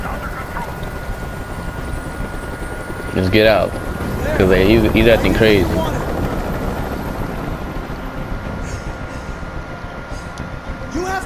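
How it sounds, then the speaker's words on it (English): A helicopter hovers in the Detroit: Become Human video game, its rotor thrumming steadily in the background while voices talk over it. "I can't stand that noise anymore. Tell that helicopter to get out of here."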